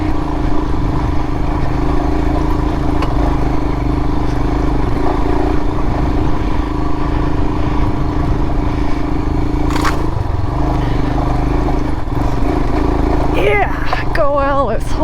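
A Royal Enfield Himalayan motorcycle rides off-road through bushes, its engine droning loud and constant close by while branches scrape and clatter against it, and a voice breaks in near the end.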